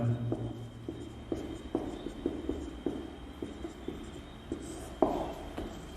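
Marker or chalk writing on a board during a class 11 trigonometry lesson, with a steady series of short taps and strokes spaced through the passage, close and moderately loud over a quiet room.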